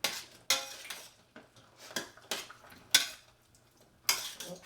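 Carrots and melting butter stirred in a pot over a low burner, giving several sharp metallic clinks and scrapes of a utensil against the pot at uneven intervals, close and fairly quiet.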